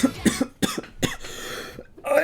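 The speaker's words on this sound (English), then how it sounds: "Oh, he's like a coughing attack." An animated character's coughing fit: a run of sharp, harsh coughs in quick bursts, fairly close and loud, with short pauses between them and a voice speaking near the end.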